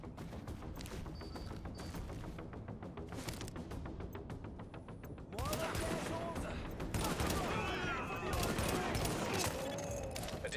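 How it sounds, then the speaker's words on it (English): Sustained automatic gunfire from a firefight in The Division's Times Square area, steady rattling bursts that grow louder and denser midway, with speech over the shooting. "With all that gunfire drawing the Riker's attention, you're gonna have a nice fat bullseye on your back."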